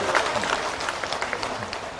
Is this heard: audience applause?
yes